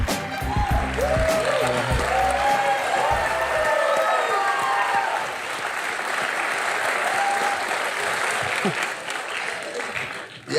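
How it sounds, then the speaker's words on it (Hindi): Sustained audience applause with some cheering fills a TV talk-show studio as cricketer Suresh Raina is welcomed on stage, loud and continuous throughout, with a voice briefly audible over the clapping. "इतनी देर तक तालियां नहीं मारते उनके लिए"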